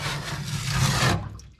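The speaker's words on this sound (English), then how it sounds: "I had to switch over from my little putty knife to my big one." A big putty knife scrapes thick grime in one short, loud rasping stroke that cuts off abruptly.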